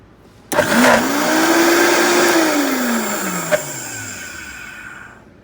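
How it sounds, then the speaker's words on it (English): A blender whirs loudly up close as it purees hummus, starting with a sudden roar, holding a steady high whine, then slowly winding down in pitch as it stops, with no talking. "So I've been running the blender for a couple minutes"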